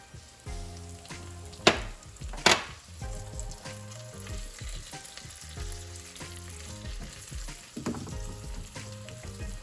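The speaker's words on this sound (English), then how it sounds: "Now I'm going to put the spinach in until it melts for about 3 minutes." Spinach fries in a pan with garlic and chives, a close, continuous sizzle broken by a few sharp crackling bursts and soft stirring scrapes, with no talk.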